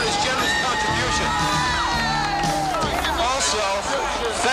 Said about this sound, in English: let's have a big round of applause for Mr. John Falcone